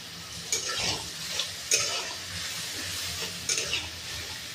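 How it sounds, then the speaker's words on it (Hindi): Ginger, garlic and onion paste fries in a pan with a steady soft sizzle, and intermittent scraping bursts come as it is stirred, close and moderately quiet. "एबे मो अदा रसुण पियाजर बटा को दे भल भाव में कषिबा।"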